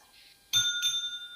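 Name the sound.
timing bell rung at a debate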